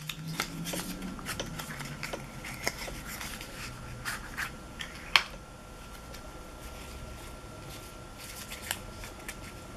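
Mini playing cards are handled and flicked in light, scattered papery clicks and rustles, close but quiet, with one sharper tap midway and no talking.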